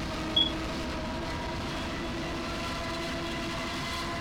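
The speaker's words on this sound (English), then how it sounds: "this train, this commuter train, you can't drive it" A commuter train rolls along in the OMSI 2 bus simulator game, giving a steady, close, low rumble of wheels on rails with one brief high squeal near the start and no talking.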